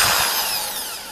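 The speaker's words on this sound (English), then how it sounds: "put screws in, and backwards" A Black and Decker KR704RE hammer drill running in reverse gives a loud, continuous motor whine up close that eases off slightly toward the end, with no voices.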